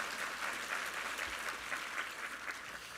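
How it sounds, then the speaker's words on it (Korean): Congregation applauding a church choir after a Sunday worship service, a steady wash of many hands clapping at moderate distance, continuous and even throughout with no voices. "우리 이부 성가대 한번 힘찬 격려의 박수 부탁합니다."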